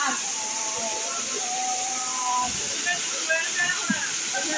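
Chhagolkanda waterfall on the Boro Kamaldah trail near Sitakunda gives a constant, even rushing hiss, with a human voice audible faintly over the falling water.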